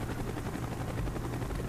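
A helicopter in the video game Call of Duty: Black Ops thrums with a close, steady rotor chop throughout a brief moment, loud and continuous without voices.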